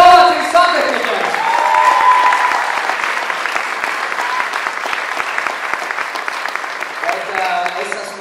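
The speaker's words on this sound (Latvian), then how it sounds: "Pēdējo reizi ovācijas santehniķiem." An audience applauds plumbers with a dense, sustained burst of clapping that rises quickly and carries on loudly for several seconds.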